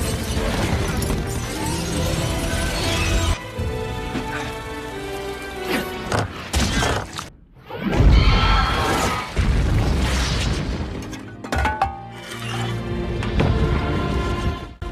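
A giant creature queen explodes in a fantasy battle film, heard as loud booming crashes and shattering bursts within a dense, continuous film soundtrack, with a brief near-silent gap midway followed by another heavy blast.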